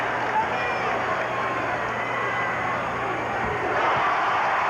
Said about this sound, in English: Williams gets a point, and the crowd back here loves it.